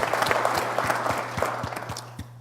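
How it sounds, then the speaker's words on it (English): Crowd applause at an evening event with Bob Graham fills a hall for Tom, a brisk and dense patter of many hands close to the microphone over a low electrical hum, thinning slightly at the end. "So please give Tom a round of applause"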